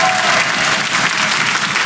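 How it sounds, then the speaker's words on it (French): Loud, dense thunderous applause from a studio audience at a children's talent show, steady and continuous throughout with a faint murmur of voices underneath. "Un tonnerre d'applaudissements."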